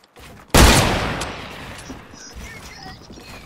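A single loud, abrupt burst of gunfire from the video game Fortnite cuts in, followed by a long fading rumble and faint scattered game effects.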